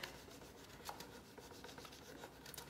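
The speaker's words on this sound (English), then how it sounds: "So rub along all my edges." Steady, soft rubbing along the edges of a plastic protector on a freshly painted piece, a close, faint, continuous scuffing with light scratchy strokes and no talking.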